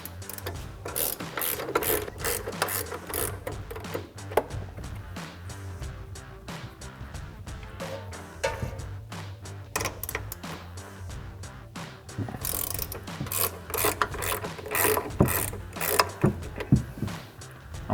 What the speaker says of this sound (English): So now I'll take that 18 millimeter ratcheting wrench and remove these nuts.